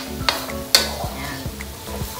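A spoon stirs pork dinuguan with laurel leaves sizzling in hot oil in a pan, with steady frying crackle broken by sharp scrapes and knocks against the pan.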